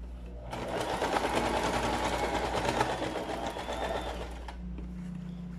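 A sewing machine stitching a seam along the waistband of girls' leggings runs in one continuous rapid whirring burst for several seconds, close and steady, then stops.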